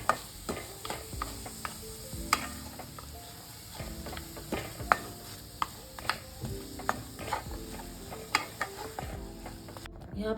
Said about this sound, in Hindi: गुड़ को इसको मिक्स करेंगे इन चीज़ों में